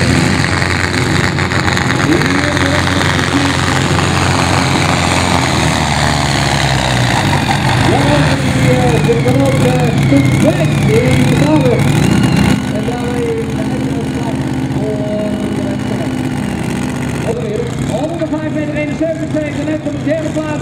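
Tractor engine idling at a Dutch tractor pulling event in the 3400 kg Supersport class at Alphen, a steady low rumble running throughout while an announcer talks over it and crowd noise fills the background.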